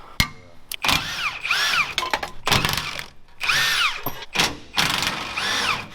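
A power tool, likely an impact gun, removes rusty bracket bolts on a custom off-road 4x4 bus, firing in several loud close bursts of whirring and hammering with sharp metallic clanks between them.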